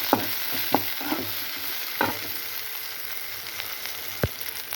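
Onions fry in a pan with goat brain, a steady soft sizzle broken by a few sharp scrapes and knocks of a spoon stirring, close and without talk.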